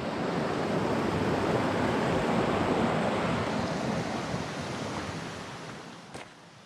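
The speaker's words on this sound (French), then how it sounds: "C'est la petite rivière qu'on a vue tantôt." A small river flows through a conifer forest, a steady broadband rush of moving water that stays close and even before easing slightly toward the end, with no voices over it.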